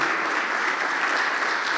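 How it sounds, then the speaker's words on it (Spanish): A congregation applauds during a Christian sermon, a brief, dense burst of many hands clapping at steady volume with no voices over it. "Le damos un aplauso a Él."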